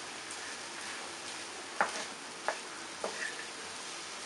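Nendran banana peel with turmeric, mustard seeds and curry leaves is stir-fried in a pan, giving a faint, even sizzle with three or four soft spoon scrapes spaced about half a second apart, and no voices.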